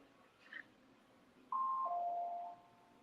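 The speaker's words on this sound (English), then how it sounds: "Isn't that the doorbell?" A doorbell chimes indoors as two clear tones, a higher ding followed by a lower dong, after a brief soft sound, otherwise quiet.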